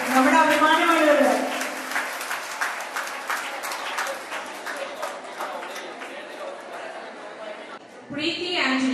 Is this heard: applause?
yes